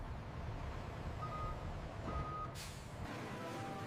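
Truck reversing beeps sound at a warehouse loading dock while pallets are loaded, a few thin tonal beeps over a low background rumble with a brief hiss of air near the end, fairly faint and distant.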